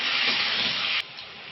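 Garlic and onion stirred in a hot pan for a Bengali bhetki fish curry, a steady close sizzling hiss with scraping that drops sharply quieter about a second in, with no talk.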